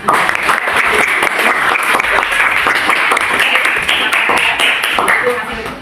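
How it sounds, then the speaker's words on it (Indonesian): Students in a classroom clap for a classmate, a lively burst of many hands that stays steady and fairly loud before thinning out near the end. "Kasih tepuk tangan."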